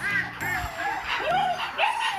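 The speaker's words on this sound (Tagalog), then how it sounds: "So ito guys yung mga aso." Several dogs at a home yip and whimper in short, high, rising cries, close by, while a person talks over them.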